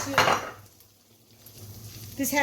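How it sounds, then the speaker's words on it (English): A utensil stirring spaghetti in oil in a pan: a short, close scrape and clatter, a quieter stretch of faint rustling, then another burst of scraping against the pan. "now I just want to stir it a little bit. I don't want it to stick"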